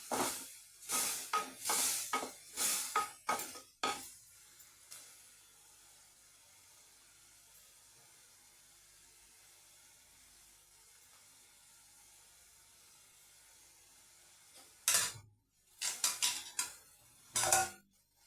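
Sharp scrapes and clinks of a utensil stirring in a pan while sautéing for a dried fish curry come in a cluster, then a long quiet hiss, then more stirring knocks near the end.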